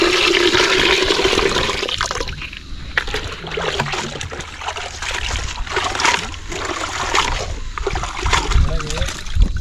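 Water is poured out in a village fish-frying setting, loud sloshing and splashing bursts up close that come and go unevenly for about ten seconds, with people talking over it.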